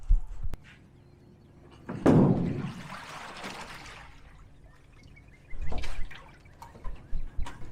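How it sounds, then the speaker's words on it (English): Water sloshing and pouring out of a small jon boat as it is tipped over beside a swimming pool: a sudden loud gush, a trailing splash and trickle, then a second splashy pour and scattered drips, with no talking. "So now we need to get all this water out of the boat."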